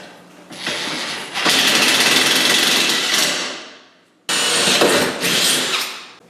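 A power drill fitted with a Super ATV drill bit runs in two loud bursts, winding up and grinding before trailing off, with a brief stop between them.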